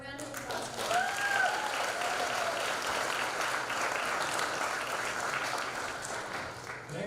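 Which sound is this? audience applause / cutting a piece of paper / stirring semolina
audience applause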